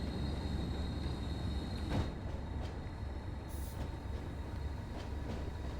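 A train locomotive from Train Sim World 2 on a West Cornwall local line rumbles along with a steady low engine drone and rail noise, faint clicks over the top, continuous and moderately loud.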